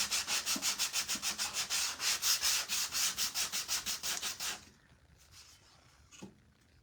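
Sandpaper rubbed back and forth around the edges of a small wooden craft piece, a steady run of rhythmic rasping strokes close up for about four and a half seconds, then stopping into near quiet.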